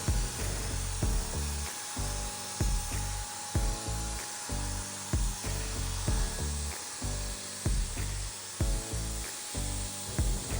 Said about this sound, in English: I am spraying in a horizontal motion back and forth, going past the edge of the piece